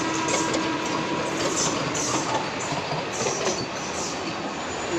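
The 12346 Saraighat Express, Guwahati to Howrah, slowing into Aluabari station, a loud, continuous rumble of wheels on rails with faint squeals and clatter heard from inside a sleeper carriage.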